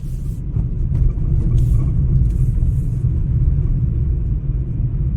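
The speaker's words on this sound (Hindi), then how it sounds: "बड़े दिनों बाद आज गाड़ी के ब्लोवर चलाने का चांस आया है" A car's heater blower fan runs steadily inside the vehicle, a continuous low rumbling whoosh with faint higher hiss and a few light ticks, with no talking.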